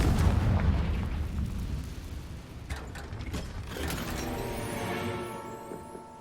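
A Confringo fire spell explodes in the Hogwarts Legacy video game, a loud burst of low rumble and crackling blasts followed by whooshing, clanking mechanical game sounds, with no voices.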